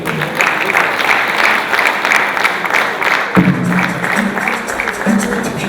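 An audience at a national cooperative awards ceremony gives a steady round of applause after a minister's address, with dense, even clapping that holds for several seconds in a large room.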